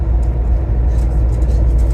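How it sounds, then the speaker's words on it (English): Steady low engine rumble and road drone heard from inside a National Express coach bound for Stansted Airport, continuous and fairly loud with a faint whir above. "So here we are, guys, a little bit early on National Express bus."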